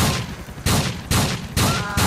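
Shotgun blasts in the video game Grand Theft Auto IV during a police SWAT shootout, five loud booming shots roughly half a second apart, each leaving a short rumbling tail, with no voices.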